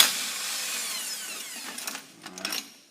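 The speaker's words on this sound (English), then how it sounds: "I'm going to take out the primary bolt" A power tool spins off the 21 mm primary clutch bolt on a RZR, a short whirring burst that winds down, then a few brief rattling clicks as it stops.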